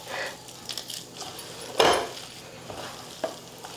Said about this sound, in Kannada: ಈಗ ಇದೆಲ್ಲ ಚಲೋ ಹೊತ್ತಿಗೆ ಮಿಕ್ಸ್ ಮಾಡ್ಕೊತೀನಿ ರೀ.